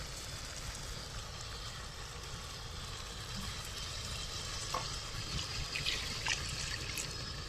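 Water pours into a pan of frying potatoes for a fish curry, giving a steady rushing trickle with a low bubbling hiss underneath and a few faint clinks toward the end, with no talk.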